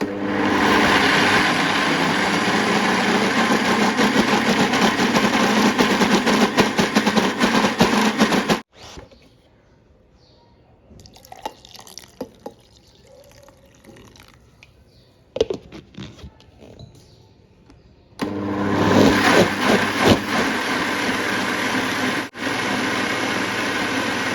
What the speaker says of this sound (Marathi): आपण याच्यामध्ये आता मूग डाळ आणि कोडो मिलेट सर्व मिश्रण घालून आपण रेग्युलर डोशाचं पीठ आपण जसं बारीक करतो त्या पद्धतीने बारीक करून घ्यायचं आहे